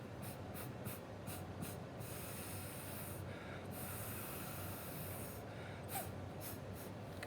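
Paint is blown across paper through a straw in short, breathy puffs: a quick series at the start, a longer gust midway, then several more near the end. The puffs are faint over a low background hum.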